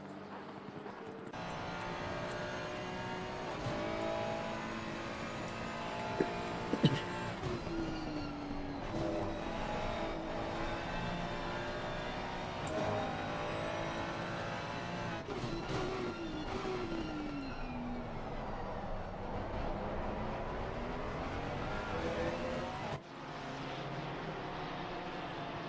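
GT3 race cars, a Ford Mustang leading a pack of Ferraris, roar around Snetterton in a sim race, with layered engine tones rising and falling in pitch as the cars jostle closely together, continuous and fairly steady.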